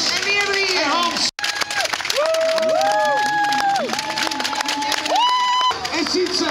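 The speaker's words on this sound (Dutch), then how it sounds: "Applaus voor Bart" Crowd cheering and clapping for finishers of a charity cycling event, lively applause under an announcer's amplified voice and whistles or shouts from spectators, sustained and close throughout.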